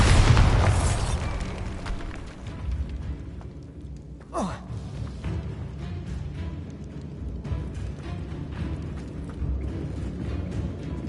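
A Bombarda spell explodes in the video game Hogwarts Legacy: a loud, sudden boom opens, then fades into a rumbling tail. A sharp whooshing sweep follows partway through, and game ambience continues underneath.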